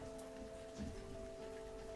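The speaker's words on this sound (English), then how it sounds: "Then it began to rain." A steady rain sound effect falls as a soft, even hiss, with a low hum running underneath and no voices.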